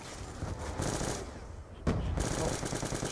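Automatic gunfire in Black Ops 2 Zombies on the Bus Depot map, a steady dense rattle of shots running throughout, with a sharper louder burst near the end.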